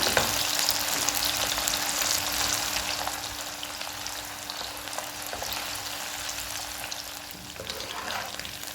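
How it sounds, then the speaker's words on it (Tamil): Small anchovies (nethili) fry in hot oil for a home-style fish fry, giving a steady, dense crackling sizzle that runs unbroken from start to finish with no voices over it. "நம்மளோட சூப்பரான நெத்திலி மீன் ஃப்ரை ரெடி ஆகிடுச்சு."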